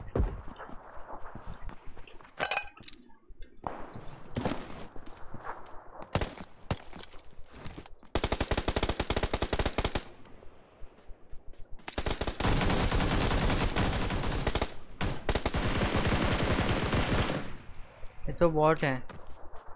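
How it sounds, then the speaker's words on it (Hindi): Bursts of gunfire from PUBG PC Lite ring out, with single shots and long sustained automatic volleys, loud and close, mixed with game footsteps and someone talking. "O real gun firing."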